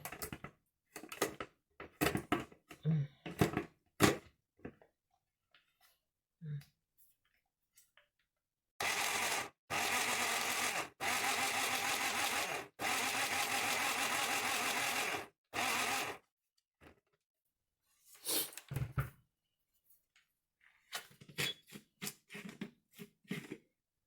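Electric blender running with small chopped pieces and a little water added, a loud steady whir in several bursts of a few seconds each, set between quieter clicks and handling sounds, with no talking.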